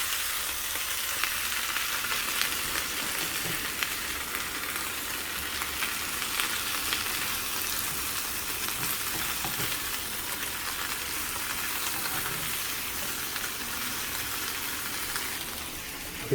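Bacon frying in a pan gives a steady, dense sizzle that holds at an even loudness throughout, close and continuous with no talk over it.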